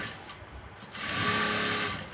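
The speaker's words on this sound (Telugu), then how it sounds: "సో ఇంకొక స్టిచ్ అయితే వేసేస్తున్నాను" Sewing machine stitching a size-40 blouse: a soft mechanical lull, then a close, fast, even run of stitching that lasts about a second.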